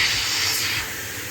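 A pressure cooker releases steam after cooking dal: a short, steady, broad hiss, close and fairly loud, dropping slightly in level partway through.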